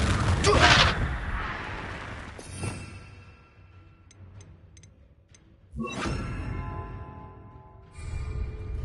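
Confringo blasting spells explode in Hogwarts Legacy: a loud burst near the start, then a sharper crack and later a second heavy blast, with fainter ticking and whooshing effects between them.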